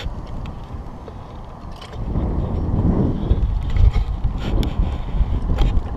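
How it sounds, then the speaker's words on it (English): Offshore wind buffets a small boat on Florida coastal water near Grant, a rough, rumbling roar that swells after the first couple of seconds and carries faint splashes and mechanical knocks. "We had a windy day, wind blowing offshore."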